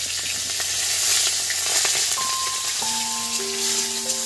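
Dried red chillies, bay leaves and panch phoron sizzle in hot oil for a kochu shak dish, a loud, continuous crackling hiss close by, with a few faint steady tones rising near the end.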